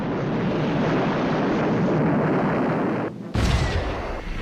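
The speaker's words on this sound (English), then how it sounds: "A second volley of high explosives" A volley of high explosives detonates during an Allied anti-U-boat attack in the Atlantic, a loud, sustained roaring rumble that breaks briefly and then bursts again sharply near the end.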